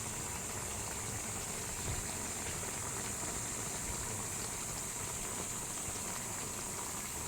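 Steady bubbling and hissing of water at a rolling boil in a pot, a continuous broadband rush with no talking.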